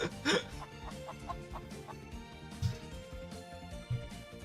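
Llama-chicken creatures cluck repeatedly in the video game Ys: The Oath in Felghana, with short bursts over layered game music and ambience, one louder cluck near the start.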